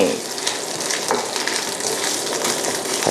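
Thai curry paste stir-frying slowly in a pan, a steady close sizzle and crackle running throughout with soft stirring scrapes and no talk.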